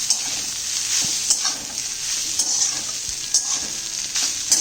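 Leftover tempered rice, Maharashtrian phodnicha bhaat, being stir-fried in a pan over high flame: a steady loud sizzle with scraping stirs and occasional clinks of the spatula, no talking.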